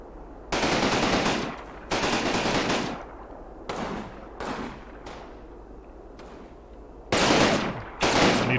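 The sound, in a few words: heavy machine gun fire in Combat Mission video game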